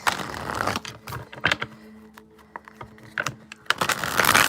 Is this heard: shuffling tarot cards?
yes